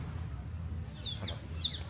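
Birds in St Lucia chirp a few quick, bright calls over a low steady background rumble, moderately close and not very loud.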